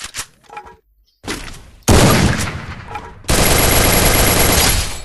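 Gunfire in the Free Fire video game comes as a few quick shots, then loud, dense rapid automatic bursts that run continuously to the end, close and harsh.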